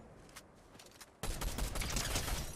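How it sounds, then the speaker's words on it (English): Gunfire in Fortnite Reload: after a quiet stretch of faint sporadic shots, a dense loud burst of rapid shooting erupts midway and keeps going to the end. "One shot, dead."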